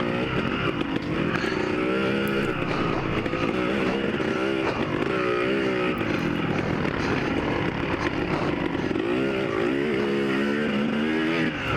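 A dirt bike engine screams continuously during a woodland hare scramble race at Bundy Hill. The close, loud, buzzing revs rise and fall as the rider opens the throttle and shifts, with no pause and no talking.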